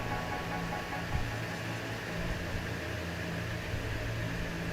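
A mixer grinder runs steadily while grinding a masala paste for a village-style country chicken curry, giving off a continuous, even motor whirr at moderate level with no talking.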